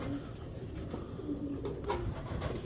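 Several pigeons coo in short, low, throaty rolls, close and continuous against a muffled room background with no talk.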